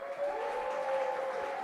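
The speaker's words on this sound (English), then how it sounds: "Can we have a round of applause for Colin," A live audience at a games talk event in Glasgow applauds for Colin, a steady, even roar of clapping heard at moderate distance with a faint tonal hum running underneath.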